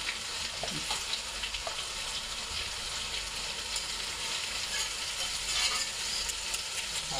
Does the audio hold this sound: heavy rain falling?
no